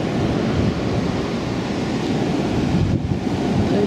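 Ocean surf and gusty wind along a dune-lined beach after a hurricane, a loud continuous wash of waves with wind buffeting the microphone and no voices.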